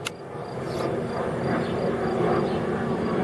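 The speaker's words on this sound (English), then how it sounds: "We've had this plane that has been like circling our farm all morning" A small plane circling over a farm drones steadily overhead, a broad continuous engine rumble that swells slightly and holds, with no voices.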